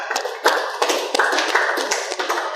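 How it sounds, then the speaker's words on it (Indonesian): A group claps for the fourth team after their presentation in a classroom, a close, busy patter of hand claps that runs steadily throughout without a break. "Oke, tepuk tangan untuk kelompok 4."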